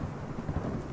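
Low rumbling thunder from an approaching storm in a wilderness survival setting, a brief soft roll under faint rain-like hiss, distant and muffled.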